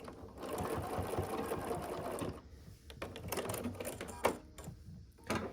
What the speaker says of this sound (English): I'm going to stitch forward just right off the stocking 1 stitch, and then I go backwards